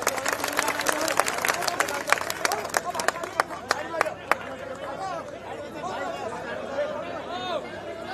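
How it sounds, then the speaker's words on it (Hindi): Large rally crowd greeting Akash Anand with loud, dense clapping and a steady chatter of voices for the first four seconds, the applause then thinning into general crowd murmur. "विकास आनंद जी जोरदार तालियों से वेलकम करें।"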